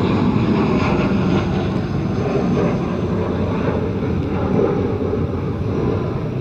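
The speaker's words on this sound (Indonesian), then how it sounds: "pesawat lewat, ganggu audio." A passing airplane produces a loud, steady broadband roar that fills the whole stretch, with a wind-like rumble and no speech.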